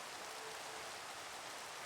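Rain falling in the video game Shepherd - Bloodbound, an even, faint hiss of drops that stays steady throughout with no voices.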